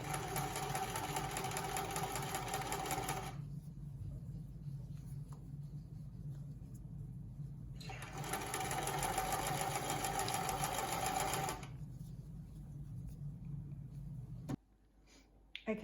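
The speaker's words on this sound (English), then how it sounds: "I'm sewing the other side" A sewing machine stitches along the side of a fabric face mask in two long runs, each a steady mechanical whir lasting several seconds, separated by a quieter pause; close and fairly loud, with no talk.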